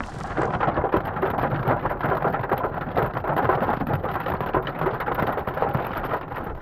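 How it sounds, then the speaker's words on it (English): Dense, continuous pattering of hail falling on surfaces during a Montana thunderstorm, close and steady throughout, with crackly impacts and a low rumbling undertone. "Oh, the hail's getting bigger too."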